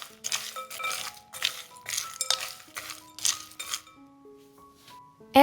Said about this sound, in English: add cashews and walnuts. And we mix everything together